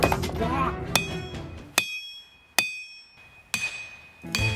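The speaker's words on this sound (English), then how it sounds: "this hammer strike right here was the start of something extremely painful" Heavy hammer blows ring out on metal while forging a Bowie knife, five or six separate strikes spaced a second or so apart, each leaving a bright lingering ring.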